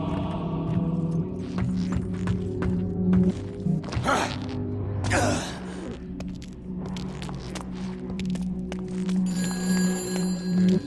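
A telephone rings in the horror action game Shadow of the Damned, with electronic ringing tones over a steady low hum and game ambience; the ringing grows brighter toward the end.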